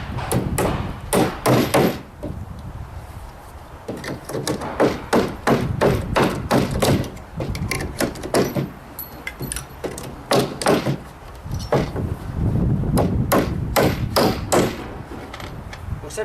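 Repeated hammer blows drive nails into timber formwork for a precast concrete beam, a long run of sharp wooden knocks in uneven bursts, close and loud with brief pauses between groups.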